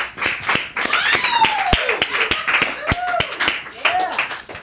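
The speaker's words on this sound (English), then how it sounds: "I'm clapping now as well." Studio audience clapping to welcome guests onto a talk show, a dense run of sharp hand claps with whoops and voices calling out over it, loud and close throughout.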